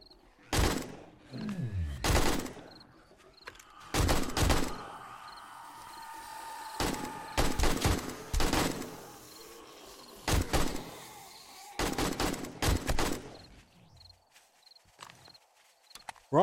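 Automatic gunfire in 7 Days to Die during a day 21 zombie horde night, loud rapid bursts repeating in several clusters separated by quieter gaps, close to the listener with faint background movement between volleys.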